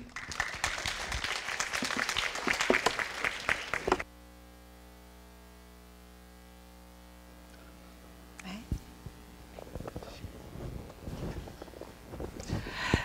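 A lecture audience at Asia University gives warm rounds of applause to welcome the speakers: loud sustained clapping, then a lull with only a low electrical hum, and the clapping resumes and keeps going.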